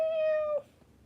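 A single long, clear meow from a nearby cat, held steady for about half a second before cutting off, with no voices.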